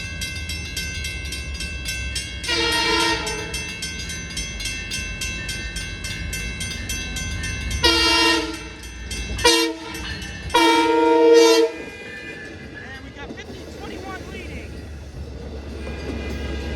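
A Long Island Rail Road local train's horn blasts in several loud bursts, two long and a few short ones, over the rumble of the train at close range.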